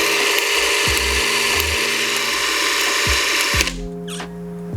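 A Bolex H16 16mm film camera's clockwork spring motor whirs steadily with a mechanical buzz, close and loud, and then winds down and stops near the end.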